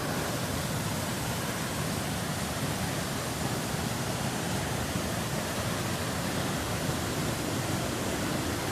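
A waterfall roars in a continuous, dense wash of loud, even rushing water with no pauses, heard close up in a canyon setting.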